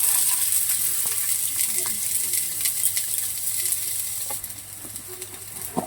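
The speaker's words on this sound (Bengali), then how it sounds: "তেল গরম হয়ে গেছে, আমি পেঁয়াজ কুচানোটা দিয়ে দেবো" Chopped onions sizzle and crackle steadily in hot oil, meant to fry crisp and reddish for a chicken biryani; a dense, even hiss with scattered pops that eases slightly toward the end.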